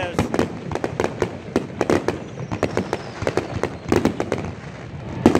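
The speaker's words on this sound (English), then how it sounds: "Big old fireworks show out here at I-75." A fireworks show at I-75 Raceway pops and bangs in rapid, irregular bursts, some close and sharp, others softer, with a crowd murmuring beneath.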